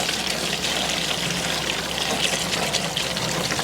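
Hot water gushes steadily from a tap on a canal boat, a constant, close splashing pour that holds an even level throughout with no pauses.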